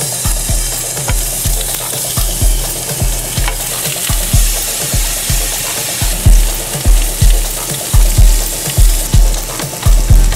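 Pork belly sizzles loudly in a hot pan, close and continuous, with regular rhythmic scraping and turning strokes pulsing through the frying.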